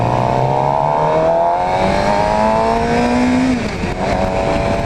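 A 2016 Suzuki GSX-R 750 sportbike revs and accelerates through the gears, its engine note climbing in rising sweeps with brief shifts between, loud and close, with no talking.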